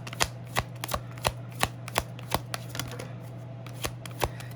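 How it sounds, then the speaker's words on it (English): Tarot cards are shuffled in a steady run of crisp riffling snaps, about ten sharp bursts spaced roughly every half second, close and clear over a faint low steady hum with no talking. "Can I get 3 cards, please, for Capricorn?"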